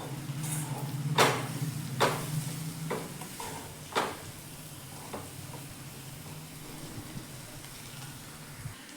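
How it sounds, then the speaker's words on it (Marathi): Garden purslane bhaji with masala and oil being stirred and sautéed in a pan gives a soft, steady sizzle, broken by a few sharper scraping clicks from the spoon in the first few seconds. "1 मिनिटभर मी परतून घेतले व्यवस्थित मसाला तेल सुटेपर्यंत"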